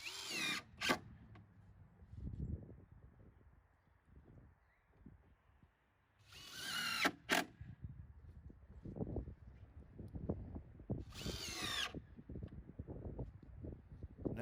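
A power drill drives screws into the edges of a wooden raised planter barrel, with three short, loud whirring bursts spaced several seconds apart, between them close knocking and handling thuds of wood and screws.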